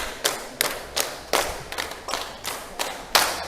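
A classroom of students claps a rhythmic ice-breaking pattern during a lesson, about nine sharp claps in uneven groups, close and crisp with no talking.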